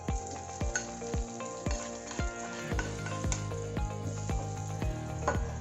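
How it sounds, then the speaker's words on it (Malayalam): Hot fried shallot and garlic tempering sizzles steadily into Kerala-style chicken mappas, with sharp crackles and spits popping repeatedly over a continuous frying hiss, close and fairly quiet. "നമ്മൾ ഉള്ളിയൊക്കെ താളിച്ചത് ഒഴിച്ചു കൊടുത്തിട്ടുണ്ട്"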